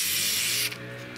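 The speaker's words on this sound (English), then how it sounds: "What I do with this is I spray it down in here" Fluid Film lubricant hisses from an aerosol can in one loud, steady burst onto a Toro mower's self-propel control bar, cutting off abruptly with a faint trailing spurt.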